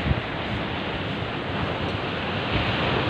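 Ocean waves wash onto a clean beach in a continuous, broad roar of surf mixed with wind noise, with no voices heard.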